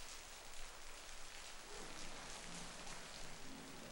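Steady rain falls inside a cinema as a dense, continuous patter that holds at an even loudness for the whole stretch, with no voices.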